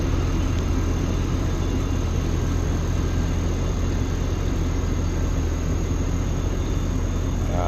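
A CAT D6G XL bulldozer drones steadily while pushing soil into a pile, a dense, continuous diesel rumble with broadband mechanical noise that holds near and loud throughout, with no voices.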